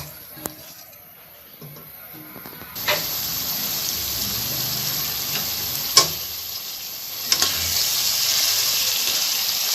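Beef being braised and fried in a pan at medium heat, a loud steady sizzle that jumps up after a quiet start, with occasional sharp clinks of a spoon stirring against the pan.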